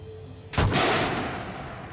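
Malyutka anti-tank missile fired in Gunner HEAT PC from a BMP-1, a single loud, sudden blast that rolls off into a long fading rumble, with no talk over it.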